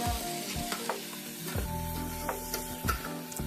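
Mint leaves sizzle steadily as they sauté in a pan for an Andhra-style country chicken dum biryani, with a loud continuous fry and a few clinks of a spoon stirring throughout, no voices.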